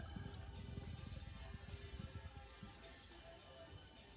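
Pale ale poured from a freshly opened bottle into a glass, a close, soft gurgling splash with bubbly fizz that is busiest at the start and settles to a quieter trickle.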